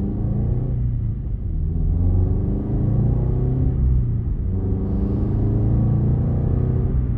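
A Scion FR-S with a manual gearbox drives in traffic. The engine makes a steady low rumble inside the cabin, with slight surges and dips as it moves along.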